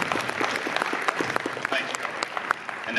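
An audience at a bridge organization's board of governors meeting gives a round of applause, steady mid-distance clapping from many hands filling the room, with no speech over it.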